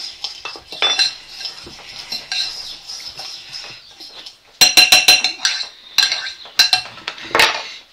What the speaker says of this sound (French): Je mélange l'huile d'olive.